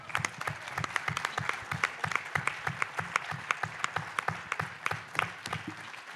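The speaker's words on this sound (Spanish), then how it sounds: "Solo me tomo el atrevimiento de aplaudirles a ustedes que vinieron aquí." Audience applause at a book presentation event, a steady patter of many hands clapping, moderately close and fairly even throughout.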